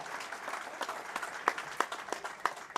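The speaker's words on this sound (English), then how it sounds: "Let's give them a round of applause" At a youth bowling tournament awards ceremony, the crowd gives a modest round of applause for the young bowlers, a soft wash of clapping heard from a distance with a few sharper claps standing out.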